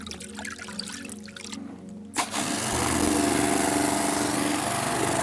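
Water runs and splashes steadily while small lake fish (vendace) are rinsed and the water is changed. After a brief quieter moment, a loud, continuous rush of water starts up close and carries on to the end.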